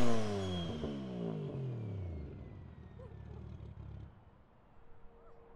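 A Mazda RX-7 with a three-rotor engine revs hard, its pitch falling as it comes off the throttle, then settles into a rough, crackling idle from a strong exhaust.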